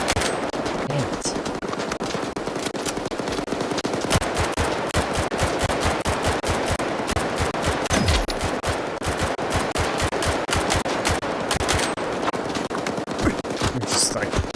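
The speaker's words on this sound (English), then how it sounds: "We're just like throwing bullets at each other right now." Gunfire exchange in the video game S.T.A.L.K.E.R. 2, loud rapid bursts of shots and fast repeated cracks, some close and some further off, fired back and forth with scattered impacts and a voice now and then.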